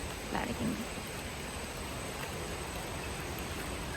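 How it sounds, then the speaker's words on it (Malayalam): Steady broadband hiss of rain falling throughout, even and continuous, with a brief faint murmur near the start. "മഴ പെയ്യുന്നു"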